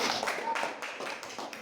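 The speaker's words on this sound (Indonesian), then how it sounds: "tepuk tangan untuk kelompok 2" Classroom applause for a student group: a short burst of dense, overlapping hand clapping from several people, fairly soft and slightly distant, with no talk over it.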